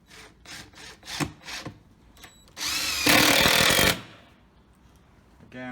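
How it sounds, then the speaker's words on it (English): A power drill drives decking screws into a plywood bee hive box, with a few short whirring bursts followed by one long, loud, sustained run as a screw is sunk home, then quiet. "2 more decking screws"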